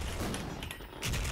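Sniper rifle fire in Special Force, heard as a dense, booming gunshot with a long rumbling tail, followed by another sharp report near the end, loud and close, with no talking.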